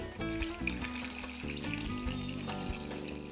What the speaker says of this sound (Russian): Поэтому заливай водой.